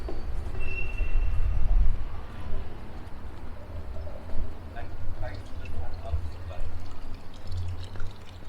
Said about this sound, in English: have a look at this tram just leaving